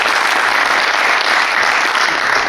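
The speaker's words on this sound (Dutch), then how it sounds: "Top, applaus voor jou." An audience at a municipal election debate of party leaders in Peel en Maas, Venray, breaks into loud, steady applause that holds at an even level throughout.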